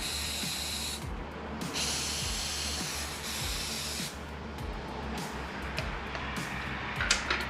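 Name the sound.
ether being sprayed into the motorcycle airbox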